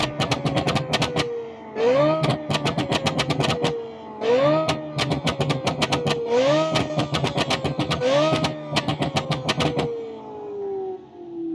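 A video game racing car built in Automation with supercharger, exhaust flames and nitrous revs hard in repeated bursts, each climb ending in crackling pops, loud and close, followed by a long falling wind-down.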